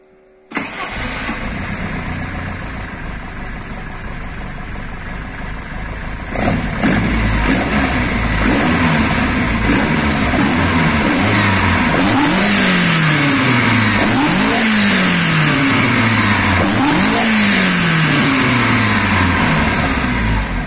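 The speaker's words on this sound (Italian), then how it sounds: "Mette in moto." An Alfa Romeo 1750 GT Veloce with new exhaust headers cranks over and fires loudly, settling into a steady idle before a series of sharp, rising revs that repeat in quick bursts close by.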